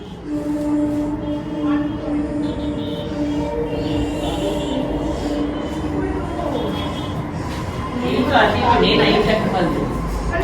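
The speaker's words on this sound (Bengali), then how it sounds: "এই দেখো ট্রেন যাচ্ছে এখান দিয়ে" A train rumbles past nearby with steady humming drone and rattling, rising toward the end, while people talk over it.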